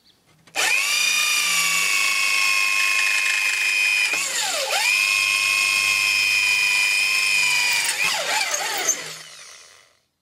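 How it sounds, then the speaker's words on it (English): A power drill bores holes in cut pieces for a homemade plinking/silhouette rifle target, its loud, steady whine holding for about eight seconds and dipping briefly in speed twice as the bit bites. "So we flip it over and drill 2 more holes."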